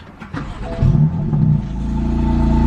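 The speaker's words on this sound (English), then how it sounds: "I'm gonna go ahead and turn on the car." A tuned 500 hp BMW M4 with a catless downpipe cranks and fires up, then settles into a loud, steady idle with a low rumble.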